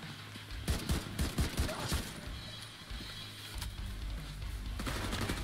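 Gunfire in The Division 2, including a sniper, cracks in sharp repeated shots and short bursts at moderate distance, over a steady low rumble of ambience.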